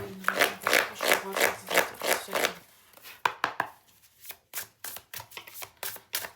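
A deck of tarot cards is cut and handled, giving a rapid rhythmic series of close, papery slaps followed by slower, irregular taps and shuffles, with no voices.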